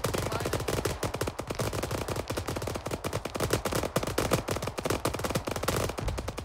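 Sustained ArmA 3 video game gunfire during an ambush, dense rapid machine-gun bursts and scattered shots crackling continuously at steady loudness, mixed with distant battle noise throughout.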